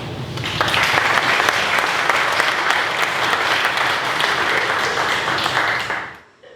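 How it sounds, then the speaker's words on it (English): Audience applause at a cemetery walk event: a thick, even wash of many hands clapping for several seconds before tapering off quickly at the close. "So, an extra round of applause for Sylvia."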